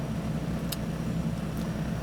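A big block V8 on a dyno rumbles steadily and loudly, a deep continuous engine drone with no pauses.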